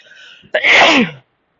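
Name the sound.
sneeze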